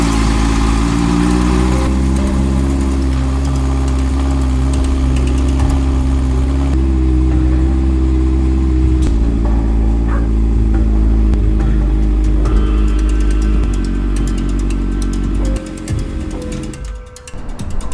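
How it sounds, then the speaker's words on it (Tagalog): A Honda CB650R motorcycle engine runs steadily at idle for a long stretch after starting during a radiator coolant flush, a loud continuous mechanical drone with slight speed changes, dropping away near the end. "So start natin yung makina ng 1 to 2 minutes tapos drain natin ulit."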